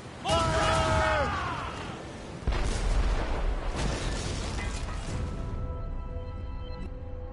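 Naval cannon fire and explosions in the video game Assassin's Creed Rogue: a loud booming burst followed by a second heavy blast, with rumbling debris and shouted voices over a dense battle din.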